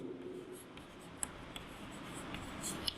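Pen or chalk writing on a surface in a classroom lesson, a soft continuous scratching with a few faint taps, quiet and close, no voices.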